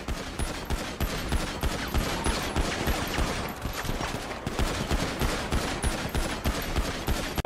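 Police open fire in a GTA roleplay shootout: a dense, continuous barrage of rapid overlapping gunshots, loud and close, crackling without pause for several seconds with no voices over it.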